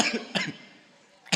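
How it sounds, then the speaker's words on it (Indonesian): A woman coughing indoors: two short harsh bursts close by, then quiet, with a third starting at the very end. "Batuk Ibu."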